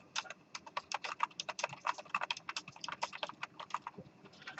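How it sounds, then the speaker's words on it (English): Steady, rapid keystrokes on a computer keyboard in a lecture setting, typed in all caps. The clicks are close and continuous for several seconds with no voices. "I'm going to type it in all caps."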